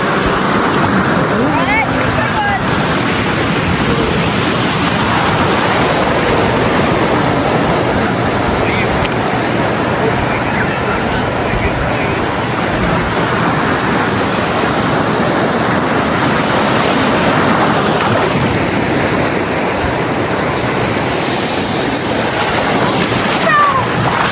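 Loud, continuous surf of big ocean waves churning and washing close by, with voices talking over the steady roar throughout.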